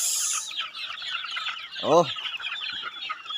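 A flock of young chicks on a Filipino farm peep in a busy, continuous high chorus, with one lower, louder cluck rising briefly in the middle.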